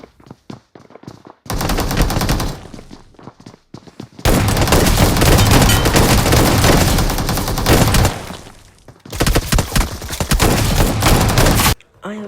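Loud automatic gunfire from the BGMI battle royale game, with three long sustained bursts of rapid shots separated by brief quiet gaps and a few isolated shots.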